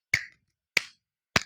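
Students at a high school career guidance class clap their hands in unison three times, each clap a sharp, crisp crack spaced evenly about half a second apart, with silence between.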